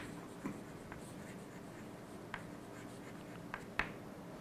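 Chalk or marker strokes on a lecture board, faint scratchy taps and brief rubs scattered over a quiet room tone, with one sharper stroke near the end; no talking.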